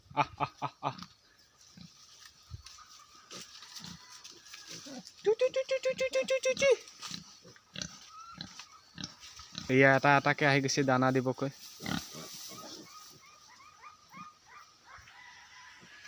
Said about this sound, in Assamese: এয়া আমাৰ গাহৰি পোৱালি কেইটা এইকেইটা 7টা গাহৰি পোৱালি আছে